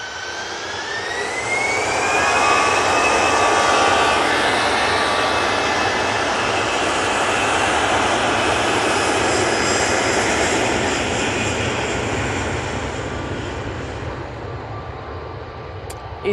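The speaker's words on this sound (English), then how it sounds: "Easyjet on the roll" An easyJet jet airliner on its takeoff roll at Manchester Airport swells into a loud, rising jet roar with a climbing turbine whine, peaking early then slowly fading as it departs.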